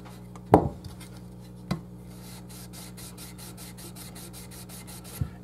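An abrasive is rubbed along guitar neck frets to level them, making a faint, steady run of rhythmic rasping strokes with a few light knocks and taps early on and no talking.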